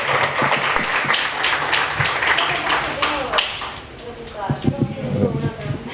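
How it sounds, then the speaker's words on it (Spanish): An audience at a book presentation applauds in scattered, uneven claps that rise and thin out, with people talking over and after the clapping. "Les pido un aplauso para los tres y sobre todo para Nelson por este maravilloso libro"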